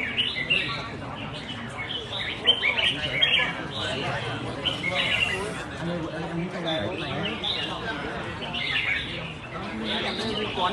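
A competition songbird calls repeatedly at the final of a bird-singing contest held by a Đông Triều club. Its bright chirps and trills overlap with steady crowd chatter and outdoor bustle throughout.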